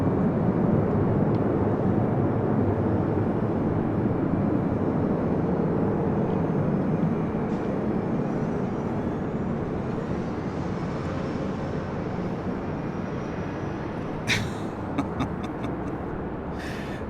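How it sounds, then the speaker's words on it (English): Emirates Airbus A380 landing at LAX after the long haul from Dubai, a steady distant jet rumble that slowly eases over many seconds, with a few brief clicks toward the end. "This is Emirates Flight 215 Super coming in from Dubai on the A380."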